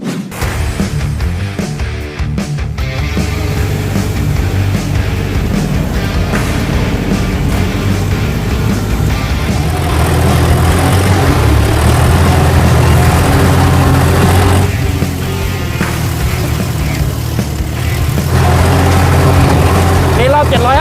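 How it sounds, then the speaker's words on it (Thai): A new Kubota L3228/L4028 tractor drives and tills a flooded rice paddy, its steady low engine drone continuous and loud throughout, with the churn of machinery filling the whole stretch and no break in the noise. "เดี๋ยวเราไปลองปั่นนาน้ำกันดูบ้างว่า ฟิลการขับมันจะเป็นยังไงเนี่ย"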